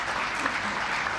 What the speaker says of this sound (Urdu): ان کے لیے سب سے زیادہ تالیاں ہونی چاہیے